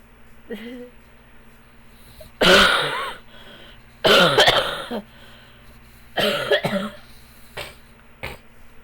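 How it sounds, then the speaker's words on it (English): Several harsh coughing fits, close and loud, separated by short quiet gaps, with a small throat sound near the start and a brief cough at the end. "I'm so sorry if the coughing is too loud."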